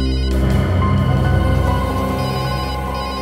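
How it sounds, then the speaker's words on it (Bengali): A telephone rings loudly and continuously in a tense crime-drama scene, a sustained electronic ringtone with steady repeating tones and no talk over it. "ফোন কোথায় বাজছে?"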